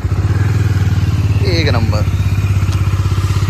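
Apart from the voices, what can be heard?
Kawasaki superbike engine revving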